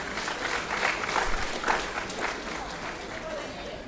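Applause from the audience at a graduation ceremony, a fairly quiet, continuous patter of clapping that swells slightly midway and then tapers off.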